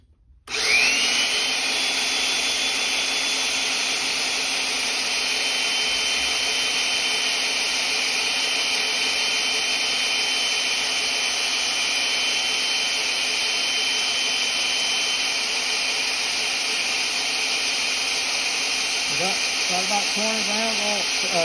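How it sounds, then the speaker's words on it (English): A power drill spins the camshaft of a Model A Ford engine to test its dry oil pump, a loud steady whine that runs unbroken and close, with a shift in pitch near the end. "When I'm drilling, the camshaft is trying to come out with me"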